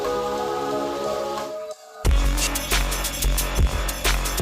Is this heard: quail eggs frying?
no